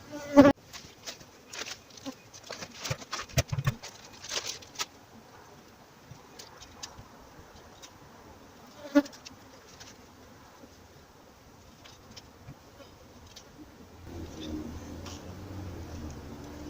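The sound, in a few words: honey bees buzzing while moved from owl box to nuc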